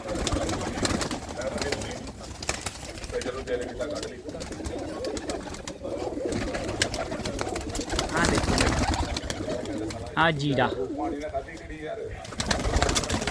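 Pigeons kept by a fancier coo softly and intermittently in the background while someone talks almost continuously in the foreground, the birds partly masked by his voice.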